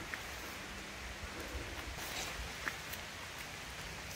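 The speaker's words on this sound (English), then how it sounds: "The rain is watering them in." Steady rain falling on a newly planted squash bed in a farm garden, a soft continuous patter with faint scattered drops, no voices.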